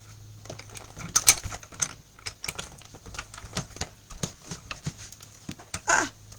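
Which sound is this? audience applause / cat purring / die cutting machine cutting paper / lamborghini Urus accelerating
die cutting machine cutting paper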